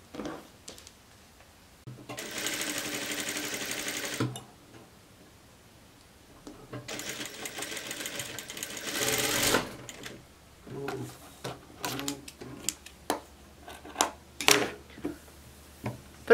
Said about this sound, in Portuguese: Agora é só costurar, uma costura só.